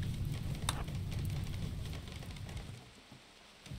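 Rain falls steadily in the video game RimWorld, a soft continuous hiss with low rumbling underneath, faint and even, fading slightly toward the end.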